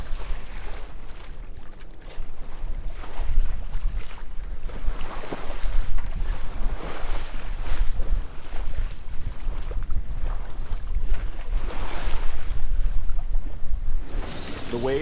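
Strong wind and breaking waves surround a sailboat in the English Channel, a loud, steady roar of wind noise and surf that carries on throughout without any voices.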